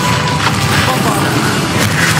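A loud Bombarda spell explosion in the Hogwarts Legacy video game, a dense sustained blast of booming, crackling noise filling the whole moment with no pause.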